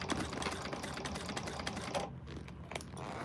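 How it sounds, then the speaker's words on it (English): Sewing machine stitching a quilted cactus-pattern bag, a steady close mechanical whir and rapid needle clatter running continuously, with a brief pause near the end before resuming. "I just hate sewing it this way because I hate when I miss something."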